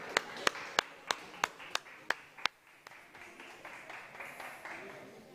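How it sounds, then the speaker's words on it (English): A small conference audience at the South Summit Sandbox Stage gives a short burst of about eight sharp, evenly spaced claps that quickly thin out into quiet room noise. "A round of applause for this last panel."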